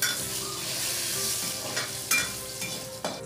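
Garlic, red chilli, curry leaves and crushed ginger tempering in hot oil in a pan, a steady bright sizzle with a few sharp stirring scrapes and clicks, close and alone.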